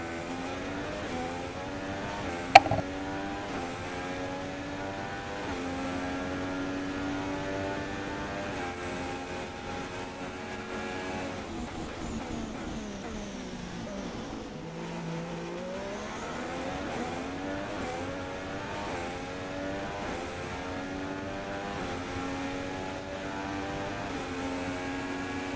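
Haas F1 race car in the F1 2016 video game, its engine droning and shifting pitch steadily throughout, with a brief sharp click near the start and a dip in revs around the middle as the car slows and re-accelerates.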